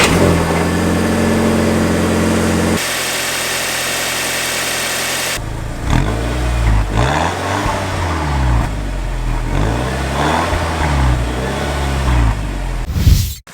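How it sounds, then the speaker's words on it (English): A 2-litre TFSI petrol four-cylinder in a 2007 Audi A4 B7 Avant quattro runs steadily up close, a low throbbing idle with a few rising and falling revs partway through before cutting off abruptly. "the 2-litre TFSI petrol engine in this car actually sounds a little bit like a"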